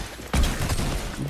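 A single sharp gunshot bursts out, loud and close, followed by a short rumbling tail, in Fortnite.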